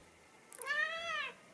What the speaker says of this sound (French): Boubou, c'est le chat de mon copain.